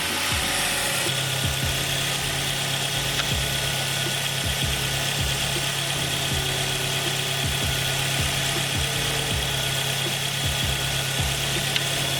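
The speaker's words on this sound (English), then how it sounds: "Just going to leave the car running for 5 to 10 minutes." A Ford ST car engine idles steadily up close after a coolant change, a constant low rumble with a faint, even ticking and hum that never changes pace.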